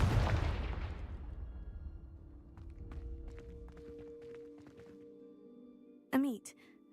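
A fiery Confringo spell blast in the Hogwarts Legacy video game opens with a loud burst that fades over about a second, followed by game ambience and a character's voice speaking.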